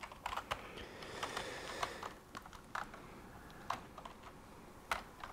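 Typing on a computer keyboard, irregular bursts of light clicking keystrokes with short pauses, fairly quiet and close, with no talking.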